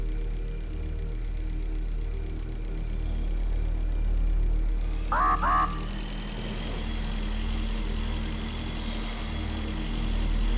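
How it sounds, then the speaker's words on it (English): Old combustion engines in the Breathedge game run as a steady, loud mechanical drone with low humming tones, continuous throughout, with a brief chirping blip partway through. "These engines are obsolete."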